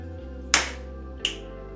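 Two crisp finger snaps about three quarters of a second apart, close and clear over a low steady background hum.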